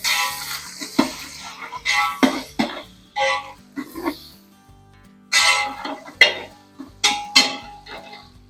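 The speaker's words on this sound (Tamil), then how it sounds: "இந்த வெங்காயத்தை கிண்டி விடணும்" Onions being stirred in a large pot for chicken biryani give metallic scrapes and clinks in irregular bursts, close and moderately loud, with brief pauses between strokes.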